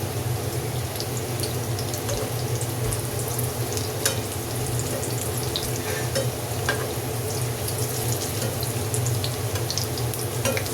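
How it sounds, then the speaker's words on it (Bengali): Chicken tikia kabab patties made from minced chicken shallow-fry in a pan at home, giving a steady, even oil sizzle with faint crackles and occasional soft utensil clicks. No one speaks. "ভেজে নিচ্ছি"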